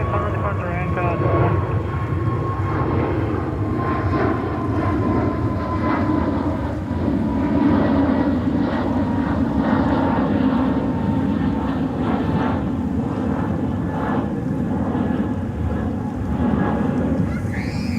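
Airliner taking off from runway 13 right at JFK, a steady broadband engine roar holding throughout at a moderate distance, with radio-style voices speaking over it.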